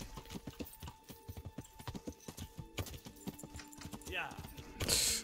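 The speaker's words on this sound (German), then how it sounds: "reiten wir jetzt mal kurz zu Wojciech" Horse hooves clip-clop in a steady rhythm while riding in the medieval game Kingdom Come: Deliverance, with a brief whinny near the end and game ambience underneath.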